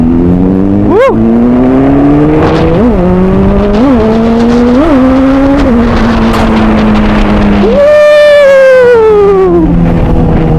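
A motorcycle accelerates on an open road in Lampung, its engine pitch climbing in several successive gear pulls before a loud, sustained high rev near the end. The engine sounds close and loud throughout, with wind rush behind it.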